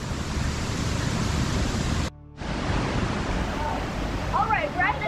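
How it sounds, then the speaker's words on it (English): Loud, steady roar of a rainforest waterfall close by, broken by a brief sudden dropout midway, then resuming with faint bird-like chirps near the end. "All right, we're at the third waterfall."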